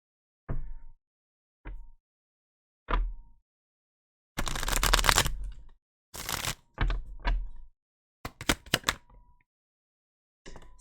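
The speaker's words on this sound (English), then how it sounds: "Let me go ahead and shuffle these." Intermittent bursts of tarot card shuffling and riffling, several separate short flurries and one longer riffle, close and clear, with silence between and no talking.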